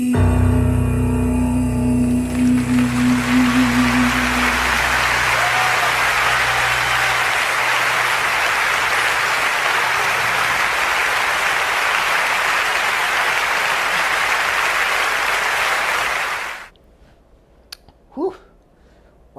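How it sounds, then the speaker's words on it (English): A concert audience at an intimate show bursts into loud, sustained applause that follows the end of a sung medley and runs for about fifteen seconds before cutting off, with brief talk afterward. "Humongous round of applause."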